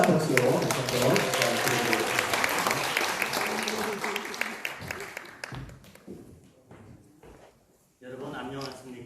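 At a Korean speaking contest for migrants, an audience claps loudly and steadily for several seconds before the applause dies away, followed by a brief pause and a person starting to speak.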